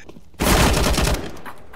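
Burst of rapid gunfire from a shooter video game erupts loud and close after a short quiet lead-in, holds dense for under a second, then trails off into lower background game noise.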